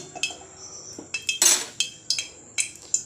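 Metal clinks and clatters from a wok as ghee and oil go into it, a sequence of sharp, ringing taps spread unevenly across a few seconds, with one louder scraping clatter near the middle.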